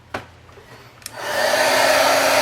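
A heat tool switches on after two small taps and blows a steady, loud whooshing hiss to melt white embossing powder, continuing alone to the end.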